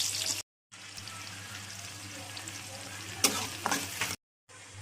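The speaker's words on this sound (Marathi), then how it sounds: "आता कांदा टाकत आहे यामध्ये।" Chopped onion fries in a pan for an egg fry curry, with a steady close sizzle and bursts of scraping as it is stirred, broken by two brief silent gaps.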